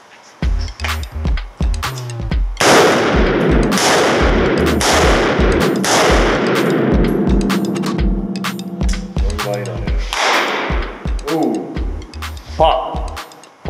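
Gunfire strikes a loaded magazine in a test of whether it can stop bullets, a rapid series of loud, close, sharp shots in bursts with ringing metallic echoes between them and a few scattered single shots.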